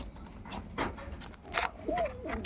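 Soft cooing from a female Lotan pigeon, a few low throaty coos in the later half over quiet background noise and faint rustling.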